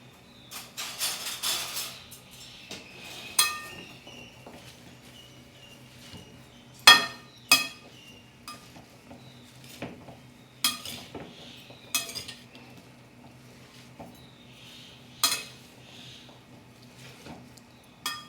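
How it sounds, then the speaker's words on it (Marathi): A spoon scrapes and clinks against a pan while a coconut and vegetable mixture is stirred together, giving sharp, irregular metallic knocks over a quiet background. "आता हे मी सगळं मिश्रण एकजीव करून घेते"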